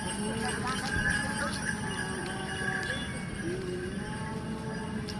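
Horse hooves clip-clop in a steady running rhythm, moderately close, with a whinny-like call and light jingling over an outdoor background; voices can be heard intermittently underneath.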